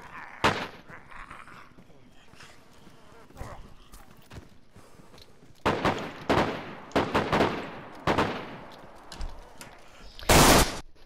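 Gunfire in the video game DayZ comes as sharp, loud shots and rapid bursts spread through the clip, clustering toward the end, with quieter gaps between volleys.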